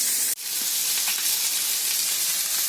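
Fish frying in hot oil for a Konkani-style dhomi fish fry: a steady close sizzle and hiss that holds throughout, broken by a brief dip near the start, with no talk over it.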